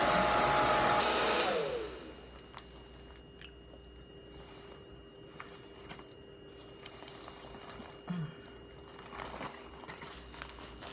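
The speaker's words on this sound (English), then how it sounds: "Used to have to go to the salon and sit under those hair dryers forever" A Conair bonnet hood hair dryer blows with a loud, steady whoosh for about two seconds, then shuts off, leaving quiet room sounds and faint rustling.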